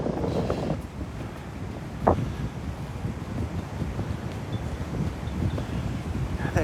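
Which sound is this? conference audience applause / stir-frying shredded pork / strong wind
strong wind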